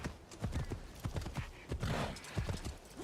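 Horse hooves clopping along a road in the video game Assassin's Creed Shadows, a steady rhythmic clip-clop of a walking horse at moderate volume, with a soft whinny-like texture midway and no speech.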